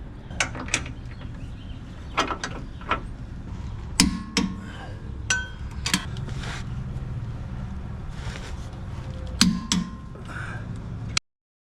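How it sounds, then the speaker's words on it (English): A wrench torques bolts on a vehicle's suspension in a garage, making sharp metallic clicks and ratcheting ticks in irregular bursts, close and moderately loud over faint background hum. "Four days later, I'm still torquing these bolts down."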